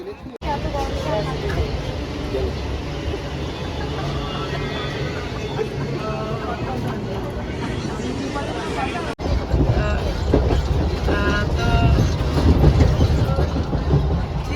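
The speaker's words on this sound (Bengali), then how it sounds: "এটা কোন ট্রেন?" At a railway station platform, a train rumbles and clatters past, with the sound growing heavier and louder in the second half. A background babble of people continues throughout.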